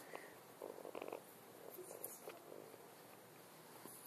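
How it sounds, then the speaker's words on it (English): A small squirrel purrs softly at close range, a faint steady rumble broken by a few brief, slightly louder bursts, with no talking. "I didn't know this squirrel's purred."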